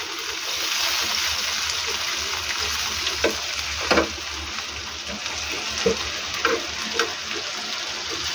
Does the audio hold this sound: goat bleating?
no